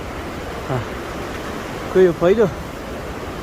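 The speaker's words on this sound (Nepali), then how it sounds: "स्टेसन फुटफुटे झरनामा हामी आइपुगेको छौँ" The Phutphute waterfall rushes as a steady broadband roar throughout, with a person briefly speaking over it.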